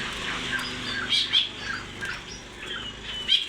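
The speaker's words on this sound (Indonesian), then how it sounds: "Dan di sini ada kancilan bakau." A mangrove whistler, a caged songbird at a bird market, gives repeated short high chirps and whistled notes at irregular intervals, fairly close, over a quiet background hum.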